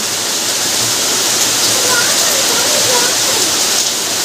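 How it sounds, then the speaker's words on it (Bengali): Heavy monsoon rain pours down over a flooded residential street with water risen high, making a loud, dense, continuous hiss that fills the whole stretch with no break. "কী হারে বৃষ্টিটা।"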